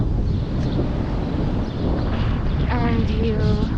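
Wind blowing along Arch Street before sunrise on an early Saturday morning, a steady loud rushing buffet across the microphone that persists throughout, with a voice talking over it near the end.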